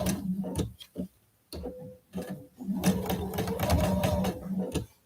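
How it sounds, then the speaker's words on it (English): A sewing machine stitching quilt block pieces runs in short starts and then a longer steady whirring stretch, with rapid ticking stitches close by and brief pauses between runs. "So I'm going to start sewing."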